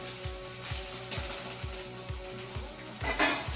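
Ginger, garlic, green chili and curry leaves sizzle in a pan with a steady frying hiss, punctuated by regular low knocks of stirring and a brief louder clatter near the end.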